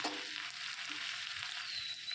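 Grated ginger hits hot oil with dry red chilli and fresh curry leaves in a pan, giving a steady, close hiss of frying that holds evenly from start to finish with no one talking.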